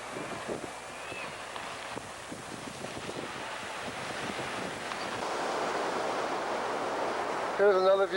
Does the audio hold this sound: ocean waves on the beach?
yes